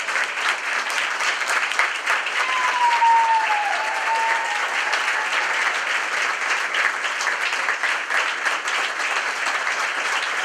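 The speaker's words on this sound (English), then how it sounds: "let's give a round of applause, please, to Pat." A crowd applauds an award recipient honored for decades of teaching young children with special needs, steady sustained clapping filling the room for about ten seconds with no talking.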